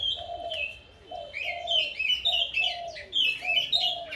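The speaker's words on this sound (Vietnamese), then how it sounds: "con than này nổ cả ngày các bạn, hót kinh lắm các bạn" A caged bird in a breeding aviary sings loudly and close by, repeating a run of clear whistled notes and chirps in quick bursts with brief pauses between them.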